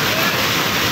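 Floodwater rushes loudly and steadily through the streets of Khopoli after heavy monsoon rain, a dense continuous roar that fills the whole moment.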